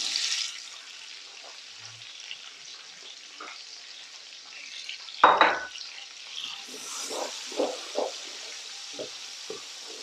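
Onions fry in a pan with ginger, garlic and cumin, a soft crackling sizzle broken by a sharp clatter midway and several scraping stirs afterward, close and without talk.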